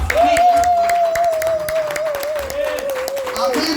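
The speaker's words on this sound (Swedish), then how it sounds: "Jag tackar dig för du klappar för mig." A church congregation clapping during a Sunday service, a run of quick scattered claps under a long sustained voice that dominates the moment.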